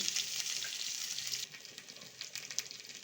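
Panch phoron, grated ginger and chopped green chilli sizzle in hot oil, a faint, hissing fry that is bright at first, then crackles and pops irregularly as it settles.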